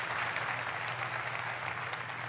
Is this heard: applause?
yes